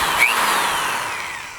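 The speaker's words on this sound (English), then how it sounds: "very high torquing right angle drill" A high-torque right angle power drill whirs continuously at close range, with a brief sharper whine near the start and a gradually fading tone.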